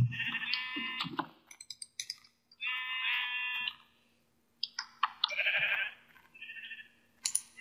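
Sheep in a farming video game bleat several times in short bursts with quiet gaps between them, clear and close, with no talking.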